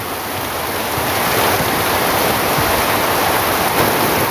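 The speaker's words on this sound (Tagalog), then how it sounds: "Lakas ang ulan." Loud, dense hiss of heavy rain pouring down steadily, a constant wash of noise with no pauses.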